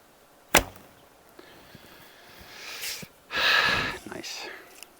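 Three arrows loosed in turn from a KTB II Korean bow, using heavy 400-grain shafts with tight Koch nocks, each release a sharp snap followed by a near whoosh and thud.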